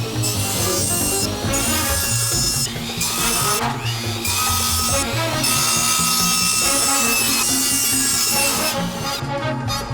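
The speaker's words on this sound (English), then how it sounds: "Now it's time to cut some pipes." PVC pipe is being cut with continuous, rasping saw strokes in a steady back-and-forth rhythm, loud and close throughout.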